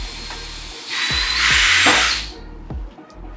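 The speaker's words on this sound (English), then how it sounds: "I'm just drilling my hole" A power drill whirs as it bores a rivet hole in a polypro hoop, a rising hiss swelling then fading over a couple of seconds, close by with a few knocks.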